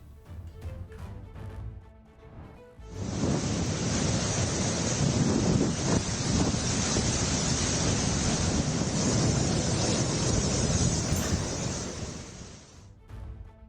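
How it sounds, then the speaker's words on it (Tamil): Strong wind and rough sea during heavy rain at Kakinada on the Andhra Pradesh coast, a loud sustained roar of gusting wind and surf buffeting the microphone, rising abruptly and holding steady. "பலத்த காற்று வீசுவதால் கடல் கொந்தளிப்புடன் காணப்படுகிறது."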